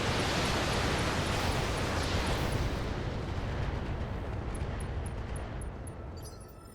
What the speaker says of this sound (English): God, those bombards are just so silly.